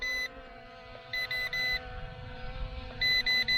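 A small camera drone emits high electronic beeps in short bursts, one pair early and a quick run of three or four later, over a low steady hum.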